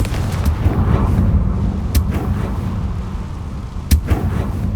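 A Confringo fire spell blasts in Hogwarts Legacy with low rumbling booms under a dense roar, two sharp cracking impacts standing out, loud and close with no talking.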